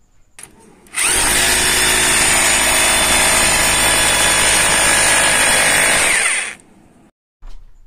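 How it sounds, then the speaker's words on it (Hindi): A WONDERCUT WCGP-2-26 rotary hammer drill in hammer-drill mode bores a hole, a loud close motor roar that starts abruptly, holds steady for about five seconds, then winds down and stops. "अब मैं यहाँ पर जो है कि छेद करके आपको दिखाता हूँ"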